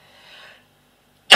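A woman sneezes once, a single sharp and loud burst close by that follows a brief soft breathy sound and a stretch of silence.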